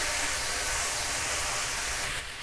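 Peas stir-fried with salt in a pan for pav bhaji. A steady, broad sizzling hiss continues throughout and eases slightly at the end, with no voices.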